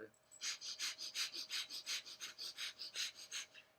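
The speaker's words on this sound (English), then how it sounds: "you want to do the breath of fire, which is rapid breathing through the nose in the right nostril" Rapid, rhythmic breath-of-fire breathing forced through one nostril of the nose, about a dozen quick, evenly spaced sharp exhalations, close and clear with nothing else over it.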